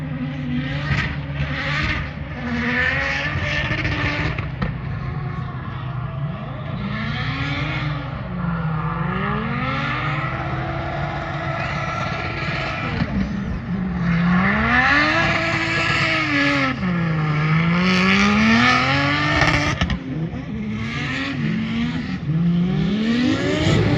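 A Barra-powered Nissan 180SX race car drives hard on a track, its engine roaring loudly and continuously as it revs up and down through repeated rising and falling sweeps, close and steady throughout.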